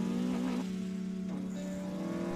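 A Toyota AE86 engine revs on Mount Akina in the film Initial D, with a rising then falling revving tone and a second rev-up, close and moderately loud, with no speech.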